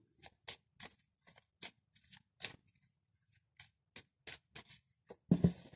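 Tarot cards are shuffled by hand before a draw, a series of short, soft riffles and slaps spaced out and close, ending in a louder flutter of cards.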